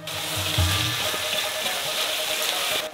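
Noodle sauce with bean paste and seasonings is stirred in a hot wok, a steady close sizzle and frying hiss with a few soft scraping strokes early on, no voices.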